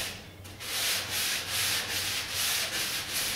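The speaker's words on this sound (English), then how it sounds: "all I'm going to do at this point is to lightly begin the sanding process" Rhythmic back-and-forth rasp of sandpaper lightly sanding old finish and stain off a wooden card table by hand, about six even strokes, close and steady.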